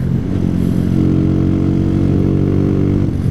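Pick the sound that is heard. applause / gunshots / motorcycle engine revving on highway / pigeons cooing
motorcycle engine revving on highway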